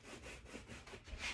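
A cloth is drawn repeatedly left to right across a door, wiping excess antique glaze in a steady back-and-forth rubbing rhythm, close up and moderately quiet.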